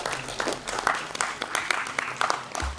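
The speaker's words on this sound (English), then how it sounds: "Again, may I remind you, clapping is very good for health." Applause from a summit audience, dense clapping with distinct sharp individual claps standing out, continuous for a few seconds before tapering near the end.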